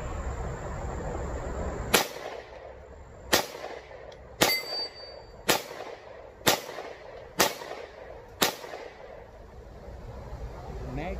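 Seven sharp, loud gunshots from a rifle fed by ProMag magazines strike a steel target, evenly spaced about a second apart, each with a short ringing decay, outdoors at a range.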